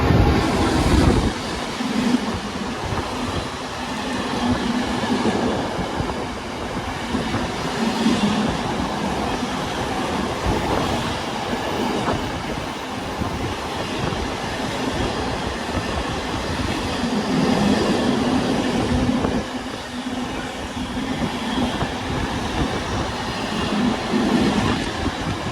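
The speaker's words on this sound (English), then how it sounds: "running about 13 minutes early is going to be our next freight train, which is running from Daventry DOS Tesco to Wentlong." A freight train from Daventry to Wentlong passes close by, a loud, sustained rumble of wagons with rhythmic clickety-clack from the wheels over rail joints, swelling and holding for a long stretch.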